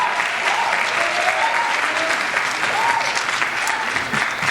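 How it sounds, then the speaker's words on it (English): Loud, sustained applause from the audience at a Lawrence High School Hispanic Heritage Month celebration carries evenly from start to finish, thick with overlapping claps. "So they also deserve a round of applause"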